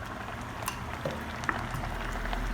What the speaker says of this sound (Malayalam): നല്ല അരി നല്ല തിളച്ച് വന്നിട്ടുണ്ട്